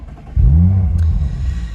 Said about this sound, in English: I just did the revs and I had it in normal mode